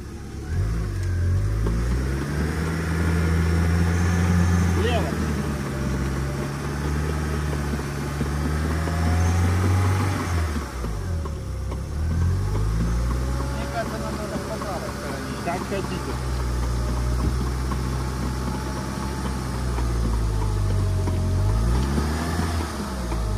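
A UAZ off-road vehicle stuck in deep mud revs its engine again and again, the loud mid-pitched roar swelling and easing in long surges, while people talk over it.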